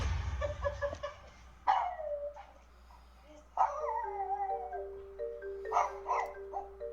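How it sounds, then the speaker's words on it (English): A pug named Augie gives a few sharp barks and drawn-out whining, howl-like cries, close by and moderately loud, separated by short pauses and heard over a low steady hum. "Listen, that's a pug."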